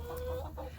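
Chickens cluck softly behind a gate beside an empty feeder, a steady mixed murmur of hen calls with a low continuous background hum, close and moderately loud.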